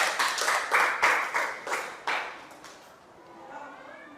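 Classroom applause from students, a short burst of about eight distinct claps in quick rhythm that fades out after a couple of seconds, close and moderately loud.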